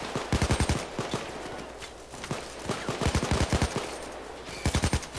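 Rapid bursts of gunfire in the video game Payday 2 crackle in short volleys, with single shots scattered between them, loud and close.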